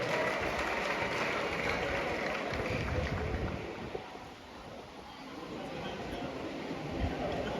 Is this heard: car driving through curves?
no